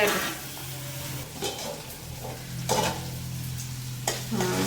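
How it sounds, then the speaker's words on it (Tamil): Onions fry in a pan for an amaranth greens poriyal, a steady close sizzle with a low hum beneath and occasional spatula scrapes and knocks, no voices. "நல்லா வெங்காயம் ஃப்ரை"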